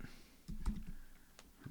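Quiet, close typing on a computer keyboard: a short run of soft key clicks and taps with brief pauses, with no talking.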